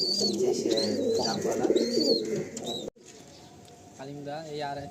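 Pigeons in a breeding coop giving soft rolling coos, close and repeated, with someone talking over them.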